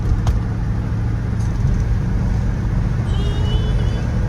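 A patrol car rolls through the streets of Mount Airy, North Carolina, its engine and tyre rumble steady and close from inside the cabin, with faint clicks and no talking.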